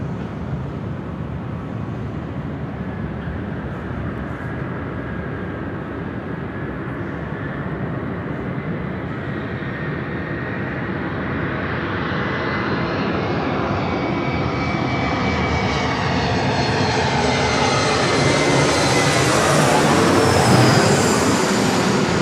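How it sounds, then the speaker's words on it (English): An American Eagle Embraer E175 airliner, operated by SkyWest and arriving from Seattle, approaches LAX with a steady jet roar that swells louder over time, heard alone without talk. "Next arrival, American Eagle, operated by SkyWest Airlines, Flight 4866, coming in from Seattle."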